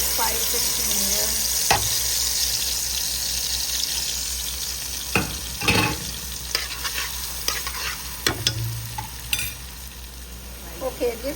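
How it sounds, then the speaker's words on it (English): Curry masala and spices hit hot oil in a pan, giving a steady sizzle with occasional stirring clatter and scraping, close and moderately loud with no talk. "Okay, so I put some oil on, it's hot. Now I'm gonna put the curry and the spices in here."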